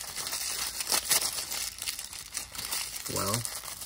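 Crinkling of a small plastic bag being pulled open to unpack a Marvel Legends Doc Ock action figure, a few scattered rustles and crackles up close, with a brief voice near the end.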